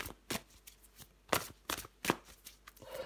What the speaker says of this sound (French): Allez, je prends encore une carte.